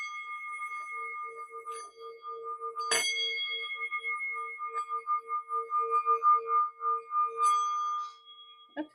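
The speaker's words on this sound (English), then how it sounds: "the way that the sound bowl kind of resonated today" A singing bowl struck with a wand rings out in sustained, steady harmonic tones, with a sharp strike near the three-second mark and another around seven and a half seconds, the resonance swelling and pulsing as it continues alone.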